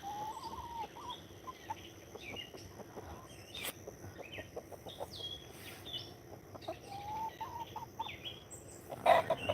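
A partial silky rooster clucks in short, soft bursts on a farm, with scattered bird calls and a busy outdoor background, and a louder flurry near the end.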